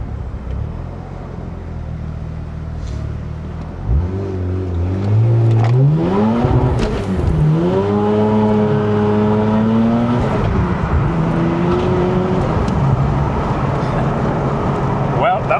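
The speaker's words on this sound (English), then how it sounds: "See if I can do a wide open throttle first and second and third maybe." Mazda RX-8 with a rotary engine at wide-open throttle, revving up through the gears in rising sweeps that drop back between shifts. The clutch slips hard. Loud and close, with a low idle before the launch.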